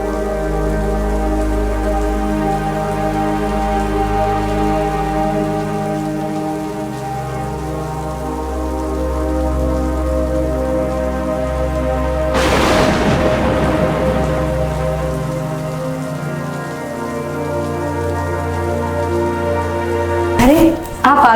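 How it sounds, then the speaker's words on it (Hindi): Heavy rain pours steadily beneath sustained tonal music, with one loud crack of thunder about halfway through and a sharp burst near the end. "ये बारिश भी सुबह से गिर रही है,"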